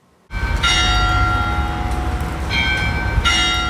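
Church bells in Bar-le-Duc start suddenly and ring loud and sustained, with overlapping tones and fresh strikes renewing the bright clang every second or so.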